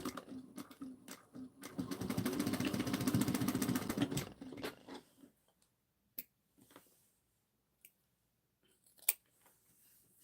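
Scissors snipping through fabric seam allowance on a pouch lining, a dense run of quick close cuts for a few seconds, then sparse isolated snips and small handling clicks in a quiet room.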